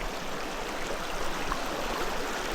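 Fast-flowing water in a Colorado creek, a steady broadband rush of faster pocketed current, continuous and close with no talk.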